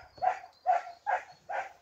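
Young dogs bark four times in an even rhythm, short yelps at moderate distance outdoors with no talk over them.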